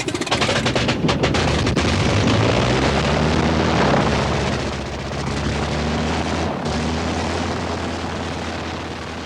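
A vintage airplane engine with a dual ignition system cranks and catches, building into a loud, steady roar that dominates throughout with a low rumbling drone.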